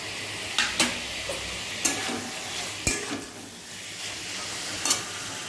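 Fried paneer goes into a masala paste of salt, turmeric and a little sugar in a pan, giving a soft continuous sizzle broken by sharp clinks and scrapes of a spoon stirring, with no talking.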